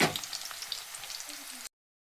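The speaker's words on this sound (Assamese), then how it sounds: "পিঁয়াজটো ৰঙা হৈ গ'ল, মাংসটো ঢালি দিলোঁ।" Pork meat frying with browned onions in a pan, a close crackling sizzle with some stirring, moderately loud, cutting off abruptly before the end.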